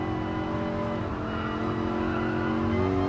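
A race car engine in a sim racing game revs hard and steadily under full throttle on a hot lap, the pitch climbing slightly as it runs on its own, loud and close.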